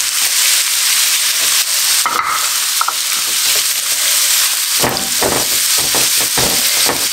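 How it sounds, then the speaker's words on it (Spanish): Potatoes, onion and crumbled chorizo fry together in a pan, giving a loud, steady sizzle throughout, with a few scraping stirs and clanks of a utensil against the pan toward the end. "vamos a añadir nuestra cebolla y el chorizo para que se fría todo junto ya"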